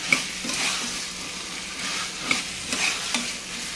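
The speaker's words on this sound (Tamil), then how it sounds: "இப்போது நல்லா கலந்து விட்டுக்கோங்க மசாலாவோட ஒரு அஞ்சு நிமிஷம் நல்லா வதக்கி விட்டுக்கலாம்" Beetroot and peas sauté with masala for beetroot biryani, a hot pan sizzle broken by several sharp scrapes and clinks of a spoon stirring through the mix, close and steady, with no voices.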